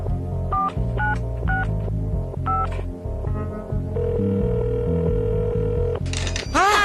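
A mobile phone plays a ringtone made of beeping electronic tones, then a sustained tone, then a rising warble. It is loud and steady over a low hum.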